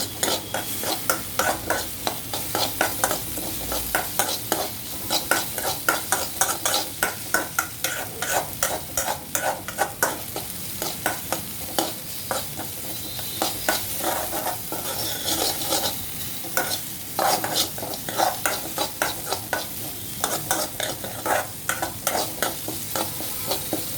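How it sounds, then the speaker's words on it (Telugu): Onion, tomato, green chilli and curry leaves fry in oil with urad dal in a pan, a close continuous sizzle broken by a regular rhythm of scraping stirs from a spatula. "కొంచెం ఆయిల్ పోసి, కొంచెం మినపప్పు వేసి, దానిలో ఆనియన్ వేసి, టమాటా, పచ్చిమిర్చి, కరివేపాకు వేసి మగ్గే వరకు ఉంచాలి"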